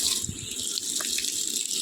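A tap runs steadily into containers at home, a continuous close hiss of flowing, gushing water with no break.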